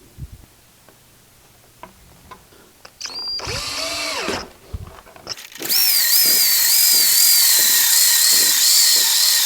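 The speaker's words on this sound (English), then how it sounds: "I need to drill a nice big hole up here for this DC cutoff switch." A power drill bores a large hole in a plastic hobby box for a DC cutoff switch, with a short burst, then a pause, then a loud sustained whine of the motor cutting through.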